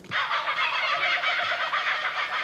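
A voice mimics a kookaburra call on a comedy panel show, producing a continuous raucous, rapidly pulsing cackle at moderate volume for over two seconds.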